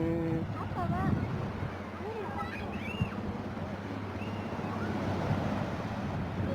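Sea waves wash onto Kuala Leuge beach in Peureulak, Aceh Timur near high tide, a steady surf roar with wind buffeting the microphone, while people talk and birds chirp faintly.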